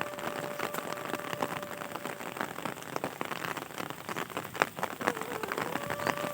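Steady rain falls on a village in Punjab, Pakistan, a dense continuous patter of drops striking surfaces with scattered louder splashes and no talk throughout.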